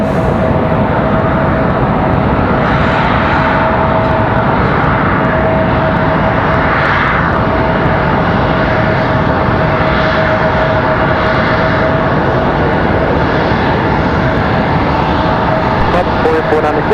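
A plane taking off from runway 23 left at Raleigh-Durham International, a loud, steady engine roar with a high tone running throughout, swelling and receding slightly as it passes.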